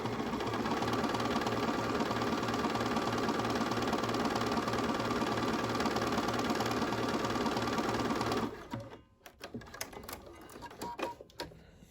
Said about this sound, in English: So when we stitch this out, on a knit, it's going to look pretty much like a straight stitch.